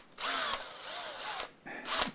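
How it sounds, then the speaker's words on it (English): A power drill whines loudly in two long bursts with a short pause between, boring a guide hole through the bridge of a Martin HD28 acoustic guitar. "So here, as a guide hole, I can drill this through"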